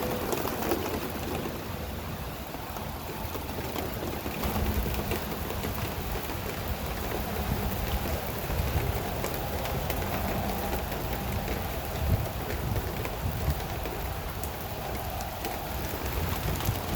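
A steady rain shower falls on an outdoor garden, with a constant dense patter and hiss of drops on surfaces, even and unbroken throughout.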